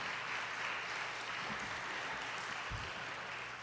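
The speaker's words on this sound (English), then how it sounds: "Let's give them some real hands of applause." An audience at a civil rights program claps in a continuous, dense wash of applause, faint and steady with no voices over it.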